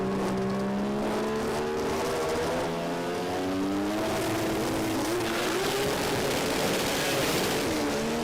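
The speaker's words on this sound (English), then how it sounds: "You'll hear the revs start to build." Drag racing cars revving hard at the launch, engines building in rising harmonic whines with loud continuous roar and crackle, the pitch climbing as they pull away, no voices.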